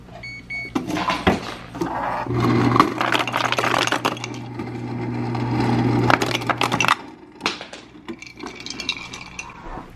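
Ice goes into a tiki cocktail in a home kitchen, with clattering, cracking cubes and knocks against glass. A steady hum runs under the middle part, and the busy sounds are close, with no speech.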